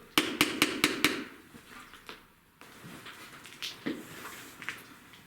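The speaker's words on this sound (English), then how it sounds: "Maybe they can do a little knock for us like this." A run of five sharp knocks in quick succession opens the moment, loud and close, followed by a few scattered fainter taps over low room noise at a night investigation of Picton Heights.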